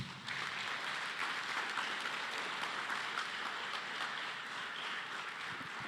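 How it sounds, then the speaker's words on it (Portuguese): A church congregation applauds together during a Portuguese-language evangelical service, a steady, moderately quiet wash of clapping that holds evenly for several seconds without a clear break. "Você pode aplaudir Jesus?"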